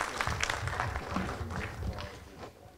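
Audience applause rumbles steadily in the background of a hall during the ANVI 2018 event, a dense, continuous wash of clapping at moderate level that fades slightly toward the end.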